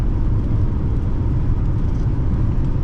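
The 3.7L engine of a 2014 Ford Taurus Police Interceptor drones loudly and continuously from inside the car, a steady low roar mixed with road rumble and no speech.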